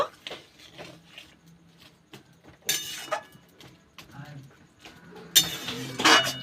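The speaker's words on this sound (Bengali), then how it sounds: "এইবার ভেজে রাখা মাছগুলো দিয়ে দেব। ভালো করে মিশিয়ে নেব।" Fried prawns are mixed into pumpkin and potato curry in a pan with a spatula, which clinks and scrapes intermittently under a person talking, with louder bursts of stirring near the end.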